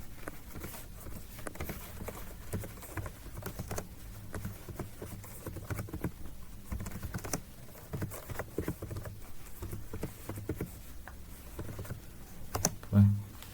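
Rapid, steady keystrokes on a computer keyboard while Java code is written in the Eclipse editor, close and continuous, with a few louder clicks near the end.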